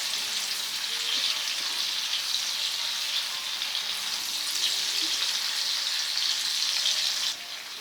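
Onions sizzling steadily in hot oil in a pan while cooking Ghanaian gari fortor, a loud, continuous crackling fry that drops slightly at the very end.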